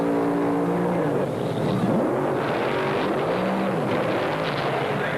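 Powerful early-1970s drag racing cars, including funny cars, roar and rise in pitch as they launch off the line and pull away, loud and continuous throughout.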